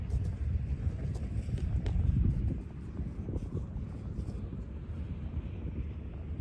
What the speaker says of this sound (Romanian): Bate vântul din spatele meu.